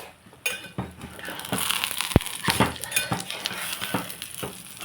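Oil sizzling in a pan while frying for a minapattu tiffin, with a soft crackle under clinks and scrapes of a utensil against the pan and one sharp metallic tap.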